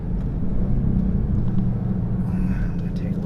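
A 2018 Kia Stinger GT2 driving on a back road, heard from inside as a steady low engine and road rumble that continues under a man's speech.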